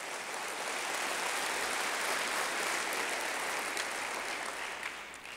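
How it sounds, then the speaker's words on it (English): An audience at a 2019 State of the City address applauds the team, commission and task force. The dense, sustained clapping is loud and fills the whole stretch, then eases slightly near the end. "Let's give this team and the commission and task force a big round of applause."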